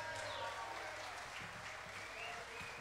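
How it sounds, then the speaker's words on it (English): Audience at the Chicago Latin Jazz Festival applauding a pianist, a steady, moderately distant wash of clapping with some whoops, held evenly for a few seconds, quiet in level. "How about another round of applause for Chicago native Joaquin Garcia on the piano."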